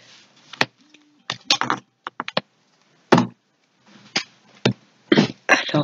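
Cards being shuffled and laid out for a five-card reading, heard as scattered sharp taps and brief riffling bursts close by with quiet gaps between them.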